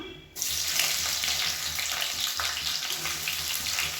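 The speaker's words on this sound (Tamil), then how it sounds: "இப்போ இது எல்லாமே நல்லா பொரியுது" Whole spices sizzle in hot oil for a vegetarian biryani, a steady close crackling and hissing that begins abruptly and continues evenly throughout.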